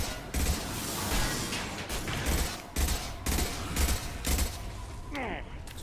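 Heavy gunfire aimed at a giant worm in the Mass Effect Legendary Edition video game, loud clustered bursts separated by short gaps, ending with a brief electronic warble.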